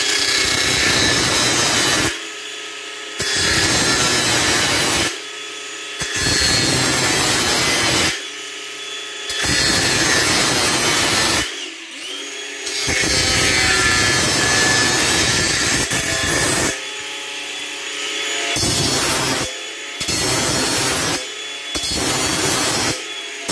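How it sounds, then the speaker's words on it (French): A utility knife scrapes around the inside of dirty PVC drain pipe while a suspended toilet is being fitted. Loud, rough rasping strokes come in repeated bursts with short pauses between them. "avec un coup de cutter, j'enlève toute la saleté tout autour à l'intérieur"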